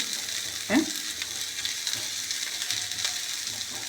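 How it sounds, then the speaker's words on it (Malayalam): Vegetables such as beans and carrots sautéing in a pan over high heat give a steady sizzle with a louder clatter of stirring near the start and a few softer scrapes later, with no talking. "ഇതൊക്കെ നല്ല ഹൈ ഹീറ്റിലാണ് കേട്ടോ ഞാനത് വെച്ചിരിക്കുന്നത് നല്ല ഇത് ഓരോ മിനിറ്റ് ഇങ്ങനെ സോട്ട് ചെയ്താൽ മതി"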